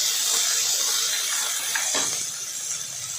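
Tomato, curry leaves and grated fresh coconut sautéing in a pan give a steady, close hiss of frying that fades slightly toward the end, with a brief clatter of stirring midway.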